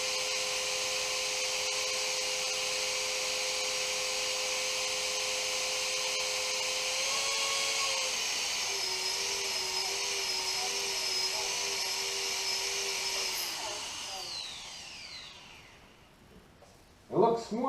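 A Blade 360 RC helicopter motor spins with no blades fitted, giving a steady high-pitched electric whine with a slight shift in pitch midway as it hunts, then winding down to silence before a brief knock.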